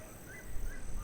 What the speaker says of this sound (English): everywhere the sound of exotic birds native to the land.